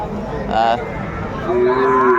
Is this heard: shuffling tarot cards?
no